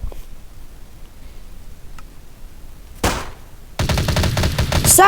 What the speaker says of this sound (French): Je peux pas ajouter des silencieux sur les armes. Parce que ça fait beaucoup de bruit là pour le coup.